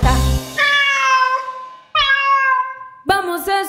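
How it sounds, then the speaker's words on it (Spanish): A cat on a roof meows three times, each call a clear drawn-out tone, loud and close with brief pauses between, the last one sharper, set within a children's song about animal sounds. "Vamos a escuchar. El gato que en el techo está."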